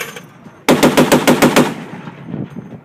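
A .50 caliber machine gun fires one loud, close burst of about eight rapid rounds, followed by a fading echo. Nobody speaks.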